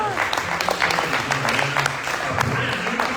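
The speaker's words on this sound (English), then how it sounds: "Give a round of applause to Roger." Steady applause from a crowd fills the clip, dense clapping at even strength throughout.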